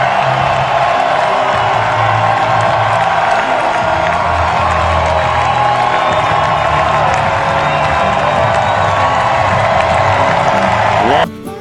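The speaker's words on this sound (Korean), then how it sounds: "팬들은 박수와 환호로 화답해줬습니다" A stadium crowd applauds and cheers a departing pitcher's emotional farewell after his final start against Oakland, sustained loud clapping and shouting for the whole stretch, then cutting off abruptly at the very end.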